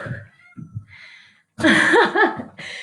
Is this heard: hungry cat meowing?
yes